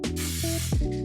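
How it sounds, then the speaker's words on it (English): A short hiss of Kirkland canola oil cooking spray going into a pan, close and steady for about a second, with a faint tonal hum underneath. "I'm gonna use this canola oil cooking spray from Kirkland"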